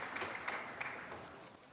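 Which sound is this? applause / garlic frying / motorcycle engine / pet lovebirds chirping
applause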